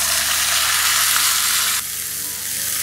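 Onion, ginger and tomato mixture with cumin seeds sautéing in hot oil, a steady close sizzle and frying hiss that drops slightly in level partway through, with no talking.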